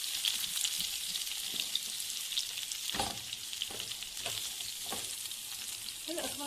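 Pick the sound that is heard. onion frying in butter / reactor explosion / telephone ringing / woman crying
onion frying in butter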